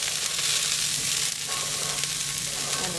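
Garlic and shallots frying in a pan alongside smashburger cooking, a dense, loud and steady sizzle that fills the whole moment without pause, close up and with no talking.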